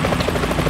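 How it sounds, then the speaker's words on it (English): A helicopter drones in the Metal Gear Solid 2 tanker level, its steady rotor beat thudding continuously and fairly loud, with no voices over it. "Is that a chopper I just heard?"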